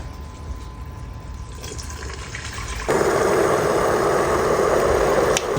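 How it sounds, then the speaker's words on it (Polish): Water pours steadily into a Tefal Cook4me Touch Pro multicooker pot, starting as a quiet trickle, then switching to a louder, fuller rushing stream that continues to the end. "Dolewamy wodę."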